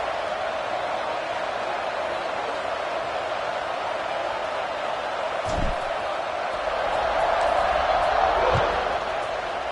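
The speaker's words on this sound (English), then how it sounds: "this crowd is buzzing after that last score" A stadium crowd in College Football 26 buzzes steadily after a score, a continuous roar that rises slightly toward the end, with a couple of dull thuds beneath it.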